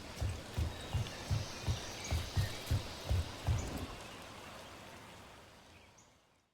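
Steady rain in the video game Dragon Age: The Veilguard, a dense soft hiss with a run of rhythmic thudding steps near the start that fade, leaving the rain alone and slowly tapering off.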